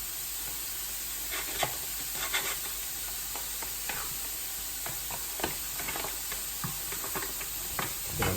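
A spoon stirs food around a hot pan during a quick home meal, giving scraping, irregular strokes over a steady sizzle and hiss of frying, with no talking.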